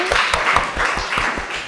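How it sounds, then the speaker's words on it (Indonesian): Students in a classroom give a short burst of applause, a brisk patter of claps from a small group lasting under two seconds. "Ya tepuk tangan ya buat Abdurrahman."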